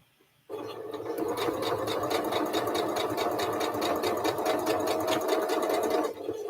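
A sewing machine stitches a fabric corner in one continuous run of about five and a half seconds, a close, steady rapid mechanical whir with a fast needle rhythm, starting abruptly and stopping near the end.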